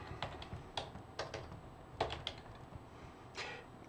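Someone keys a password into a computer keyboard, with a few soft, uneven clusters of keystrokes separated by short pauses over faint room noise, close and fairly quiet, with no speech.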